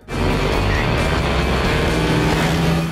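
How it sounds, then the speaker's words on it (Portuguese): A group of motorcycles races past a car at high speed, making a loud, steady engine roar that swells in suddenly and holds close for several seconds. "Um grupo de motociclistas passa por seu carro em alta velocidade."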